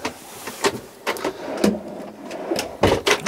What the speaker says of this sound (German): Wir haben zwei sehr große Schubladen